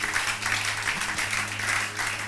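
Congregation in a church service breaking into applause, a dense, steady roar of many clapping hands filling the room, fairly loud and sustained with a low hum beneath.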